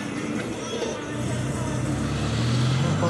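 Heavy street traffic in Lapa, São Paulo, a steady close roar of car and truck engines with a low rumble building toward the end, faint voices mixed in.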